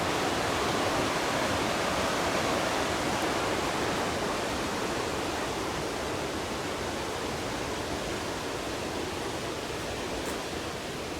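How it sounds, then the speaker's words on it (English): A creek fed by spring mountain runoff rushes steadily, a dense, loud, unbroken roar of flowing water close by, with no voices. "At a spring mountain runoff."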